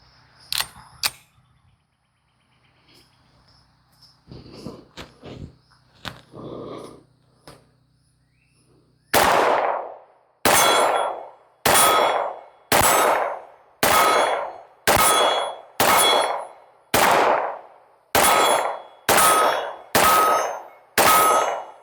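Beretta 92FS pistol rounds striking steel targets at a range, eleven evenly spaced sharp metallic clangs that ring out loudly after quieter handling noises.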